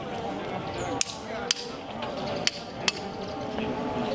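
A firefighter's metal hydrant tool knocks four times in sharp, separate strikes over steady background noise.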